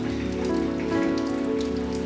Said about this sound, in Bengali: দেখুন বন্ধুরা, আজকের বাইরের আবহাওয়াটা খুব খারাপ। কীরকমভাবে বৃষ্টি পড়ছে,